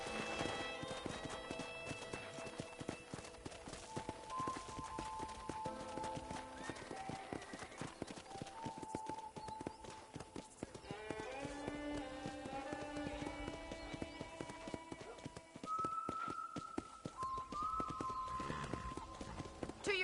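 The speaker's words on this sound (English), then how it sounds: "let's see if you can still ride a horse" Horse hooves clip-clopping at a steady riding pace in Red Dead Redemption, moderately close and continuous, with game music tones and faint ambience underneath.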